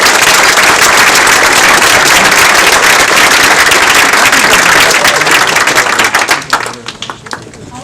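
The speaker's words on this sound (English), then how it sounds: "Let's give them all a big round of applause." Applause from an audience at an outdoor political clambake, a dense, loud, continuous clapping that thins out and fades near the end.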